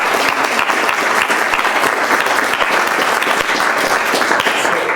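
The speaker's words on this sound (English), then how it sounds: "let's first give a round of applause to them" Loud, dense audience applause for a panel at the close of a briefing, continuous and even from start to finish with no speech over it.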